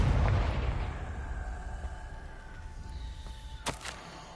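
Deep blasting boom of the Confringo spell in Hogwarts Legacy, a loud low rumble that decays slowly, followed by a couple of sharp crackling bursts near the end.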